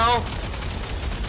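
Gunfire in the Gears of War 5 video game as a blister creature is shot, a brief dense burst of loud crackling shots fading into a roaring wash.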